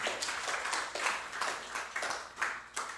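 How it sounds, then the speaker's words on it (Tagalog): Church congregation clapping in praise during a sermon, a soft, fairly regular rhythm of claps repeating about every third of a second, faint and somewhat distant. "Palakpak po sa Panginoon"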